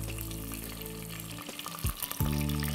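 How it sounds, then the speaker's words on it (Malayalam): Curry leaves drop into hot coconut oil with popping mustard seeds, giving a short, quiet sizzle that breaks into sharper crackling bursts near the end. "നമുക്കിതിലേക്ക് കറിവേപ്പില ആഡ് ചെയ്യാം."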